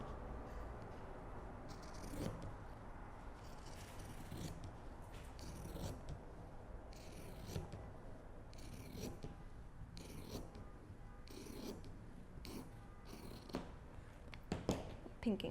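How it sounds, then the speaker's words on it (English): Repeated crisp snipping of heavy pinking shears through fabric, a series of short crunchy cuts at an uneven pace, close and fairly quiet, with no talking. "Pinking shears."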